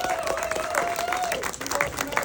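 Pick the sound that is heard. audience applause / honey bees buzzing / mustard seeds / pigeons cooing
audience applause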